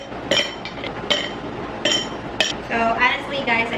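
Ice cubes dropped into a glass for a homemade Starbucks-style coffee, several sharp clinks in an uneven rhythm, close and loud, with a voice talking underneath.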